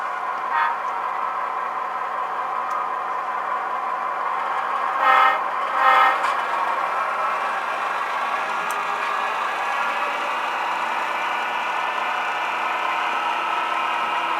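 MTH Proto 3 O gauge model locomotives run a push-pull shuttle under automatic DCC control, giving a steady close rolling hum on the track with two brief horn blasts near the middle.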